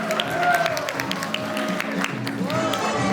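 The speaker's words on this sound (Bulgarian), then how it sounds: "Аплодисменти за топ 4." A classroom audience claps and cheers in a short burst of applause, bright sharp claps spread across the room, with voices calling out over the clapping.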